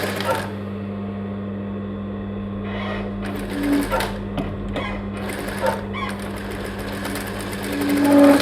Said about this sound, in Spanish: y aquí hago una costura como el ancho de la patilla